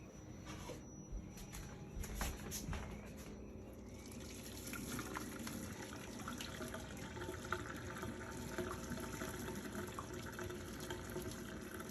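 Water gushes steadily out of a pot with a built-in strainer as cooked spinach pasta is drained, a continuous close splashing rush into a sink that holds for the whole stretch.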